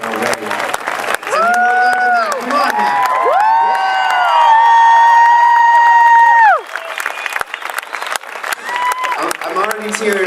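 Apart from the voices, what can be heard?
crowd applause and cheering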